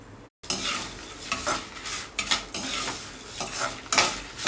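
Dried red chillies, mustard seeds, urad dal and fenugreek seeds roast in a pan, stirred briskly with a metal spoon, producing a dense crackling sizzle with repeated scrapes and clinks close by.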